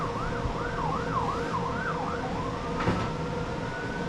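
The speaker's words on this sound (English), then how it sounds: "Oh, no more police sirens, please." A police car siren wails in a rising and falling pattern for several seconds, then fades, over steady road traffic noise, with a sharp clatter near the end.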